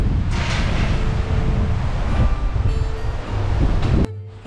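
Strong wind roars across a hilltop campsite at Pitawala in Sri Lanka, loud, gusty and buffeting the microphone, rising and falling before cutting off abruptly near the end.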